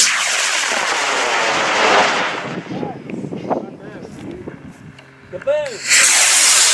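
A high power rocket launches with a loud, broad roaring whoosh that fades as it climbs away, followed by quieter outdoor noise, scattered voices, and another burst of roaring rush at the end.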